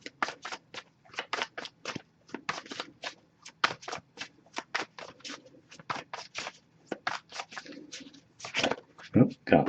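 Tarot cards are shuffled by hand in a rapid series of crisp riffles and slaps, close and fairly quiet, with a louder clatter near the end.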